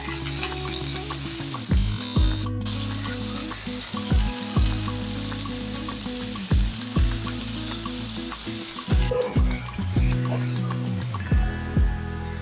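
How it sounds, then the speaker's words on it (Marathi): Sprouted moth beans sizzle and fry in a spiced tempering, a steady close crackle broken by rhythmic scraping stirs every second or so, with no talking. "फोडणीमध्ये मटकी चांगली परतून घेऊया"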